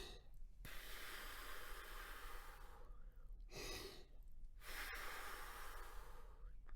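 Slow, deep breaths drawn in and blown out through a small handheld breathing tube used by a trumpet player, airy hissing rushes at a steady pace, close and fairly quiet.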